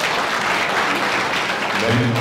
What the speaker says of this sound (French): s'il vous plaît, les applaudissements pour M. Abdoulaye Diallo